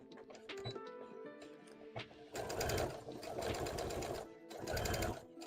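A sewing machine stitches a Pokemon plush in short bursts, with lighter ticks and handling noises at first and then two longer stretches of fast, rhythmic needle clatter, fairly close but quiet.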